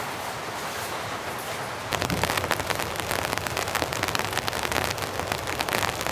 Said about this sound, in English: It's not raining super heavy at the moment.